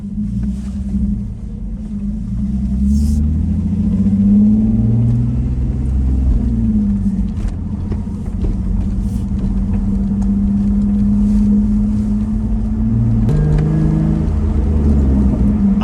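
A Lexus IS300 drives along a road, its engine holding a steady low rumble and drone heard from inside the car, with a slight shift in pitch near the end.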